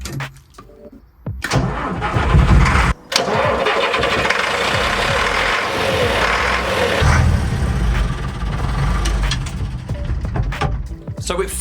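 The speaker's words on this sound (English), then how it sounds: "So it fired up straight away" The diesel engine of a Routemaster double-decker bus cranks and fires up straight away, then settles into a loud, rough, rumbling idle that carries on steadily.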